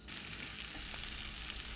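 Raw banana curry with spices is stirred in a frying pan, producing a continuous, close sizzle of frying with faint scraping from the stirring and no voices.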